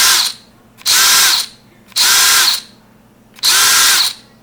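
A DeWalt cordless drill/driver whirs in three short bursts, each starting and stopping abruptly with brief pauses between, close up and fairly loud.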